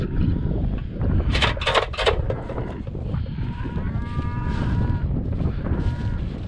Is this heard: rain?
no